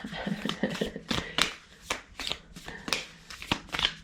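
Tarot cards are shuffled by hand in quick, crisp riffling bursts and soft slaps, close and clear with no talking.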